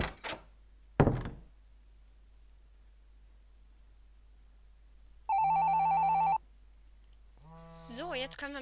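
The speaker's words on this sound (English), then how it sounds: "Wir hören ein aufgeregtes Handy klingeln." A mobile phone rings in two bursts of a steady electronic tone, alone in a quiet room after a couple of sharp clicks and a thump.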